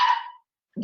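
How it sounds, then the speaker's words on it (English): A dog gives one sharp, loud bark that quickly trails off, followed by brief silence and the start of a second bark. "that's my dog"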